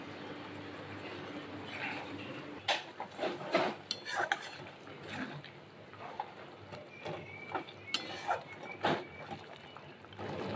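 Fried onions being stirred in a cooking pot, the spoon scraping and clinking against the metal in irregular strokes over a low background hum.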